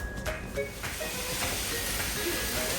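Roadkill meat and onions cooking in a pan, giving off a broad, steady steamy hiss with faint crackles, close and continuous through the short stretch.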